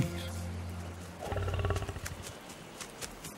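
A lion roars in an animated film, a loud, deep roar building after a second of quieter sound and rumbling for about two seconds before fading into softer noise.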